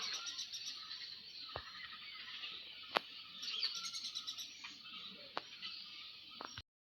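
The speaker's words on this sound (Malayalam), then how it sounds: "കണ്ടോ? തൊപ്പിക്കിളി ഇരുന്ന് കുളിക്കുക." A red-whiskered bulbul bathes outdoors among trees, giving faint, sparse chirps and calls at a distance over a quiet background hiss, with a few sharp clicks scattered through.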